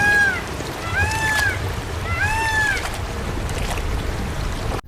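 A cartoon boat glides across water, with a steady wash of waves and water noise, while a high, wavering cry rises and falls three times over it.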